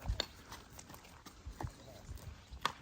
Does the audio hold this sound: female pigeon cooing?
no